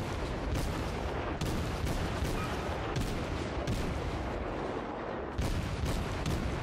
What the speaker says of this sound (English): Fire all guns. The gunnery duel begins.